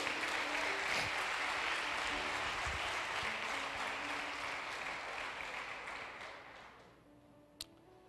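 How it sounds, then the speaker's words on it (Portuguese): A congregation applauds during a church sermon, a thick continuous wash of clapping that fades away over the last couple of seconds, leaving near quiet and one sharp tap. "Dê um aplauso a Jesus"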